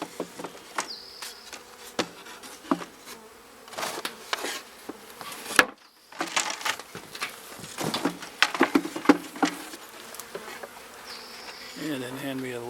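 Steady insect buzzing from a cluster of honeybees at close range at a small hive, with scattered knocks and handling thumps throughout and a brief quiet gap midway.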